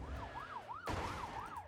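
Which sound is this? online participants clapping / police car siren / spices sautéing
police car siren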